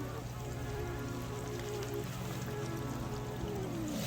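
Pork ribs deep frying in a pot of hot grease give a steady, dense bubbling sizzle throughout, with a constant low hum underneath and no talking.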